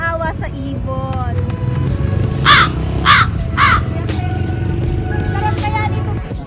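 Three harsh crow-like caws ring out in a row, spaced about half a second apart, over a steady engine rumble and background chatter.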